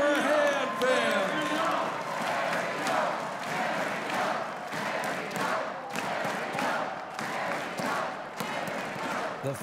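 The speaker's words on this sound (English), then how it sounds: "The fans cheer Ariel on as the medics help her off" Women's wrestling crowd cheers and shouts in an arena as an injured wrestler is helped out by medics, a loud continuous roar with scattered thuds and whoops, while a commentator talks over it.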